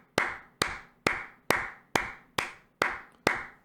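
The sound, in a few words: clapping, a round of applause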